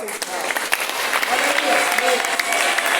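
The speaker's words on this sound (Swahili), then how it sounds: "Hebu tumpigie Bwana kwa makofi." A church congregation claps in praise, a dense steady patter of many hands filling the room at moderate volume, with voices mixed in.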